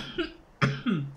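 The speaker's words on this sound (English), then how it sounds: "Still recovering from whatever the cough is." Person coughing, with two to three short, harsh coughs in quick succession at close range, alone without speech.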